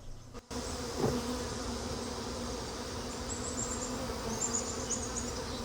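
Captured honeybee swarm buzzing at its hive: a steady, dense hum runs throughout, close and even, after a brief thump at the start.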